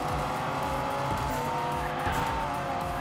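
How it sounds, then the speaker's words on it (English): A toy car drifts on a track in the video game Hot Wheels Unleashed, with continuous loud tire squeal and a revving engine, no talking. "Can we get this drift going?"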